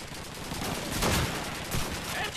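MG42 machine gun fire in the World War II shooter Call of Duty 2, a dense, continuous roar of rapid shots with two louder surges, loud and close throughout.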